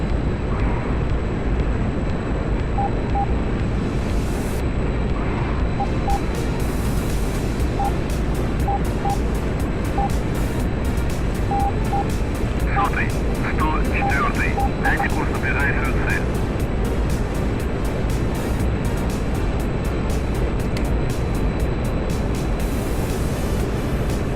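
A fixed-wing combat aircraft in DCS flight simulator drones with a steady, loud engine roar throughout, with faint cockpit beeps and someone talking over it.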